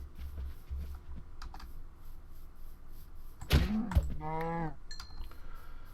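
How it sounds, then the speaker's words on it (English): A cow in Minecraft gives a short, clear moo near the middle, preceded by faint keyboard clicks and game noises in a quiet background. "So there's some cows here."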